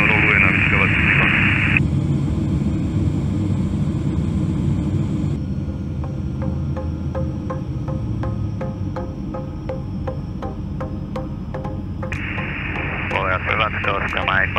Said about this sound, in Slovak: A dve lietadla zahrievajú, jedno roluje na vyškovací výpad.